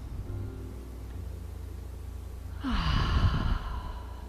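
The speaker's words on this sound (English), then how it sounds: "Nice intentional breathing right now." A slow, deep breath taken during a chair yoga class, a soft airy sigh that swells for about a second and a half near the end, close and fairly quiet over a low steady background hum.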